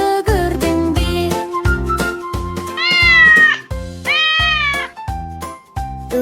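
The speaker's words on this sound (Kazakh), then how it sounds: "Мяу-мяу деп дыбыс бар, тыныш қана жақындар." Cartoon cat meows in a Kazakh children's farm-animal song, repeated sung meow phrases over a bouncy, steady musical backing, loud and upfront.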